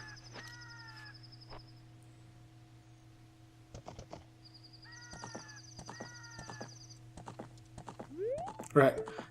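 Horse hooves clip-clop in Ocarina of Time: a faint, rapid galloping patter runs under game music with a steady drone, and a horse's whinny comes near the end.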